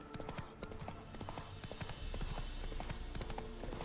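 Horse hooves clip-clop in The Witcher 3, a quick run of sharp rhythmic hoof strikes over a busy game soundscape, growing a little heavier toward the end.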